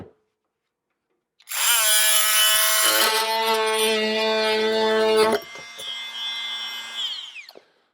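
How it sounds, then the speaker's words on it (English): A Dremel rotary tool fitted with a scraper attachment strips old paint and artwork from a Sega Frogger arcade cabinet. After a brief silence a loud, steady high whine runs for several seconds, then drops to a lighter, uneven buzz before cutting out. "get to work with this Dremel attachment and see if this scraper will help rip this old CPO off"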